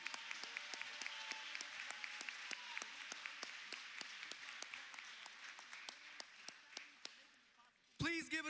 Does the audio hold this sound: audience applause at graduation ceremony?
yes